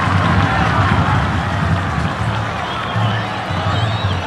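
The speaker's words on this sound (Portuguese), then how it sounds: "Pedrinho já vai voltar e por isso é que a torcida do Vasco aplaudiu." Vasco supporters applauding in the stadium during a 2000 Campeonato Carioca match against Cabofriense: a dense, continuous crowd roar with scattered clapping, sounding distant and broadcast-like.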